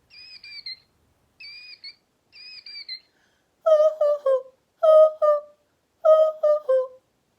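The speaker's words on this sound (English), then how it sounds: "This is the killdeer. Listen to the killdeer." Killdeer calling, close and clear: three short, high, thin two-note cries, then three louder, lower bursts of rapid strident notes, with silent gaps between.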